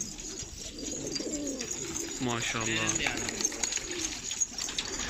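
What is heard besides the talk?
Elvan pigeons cooing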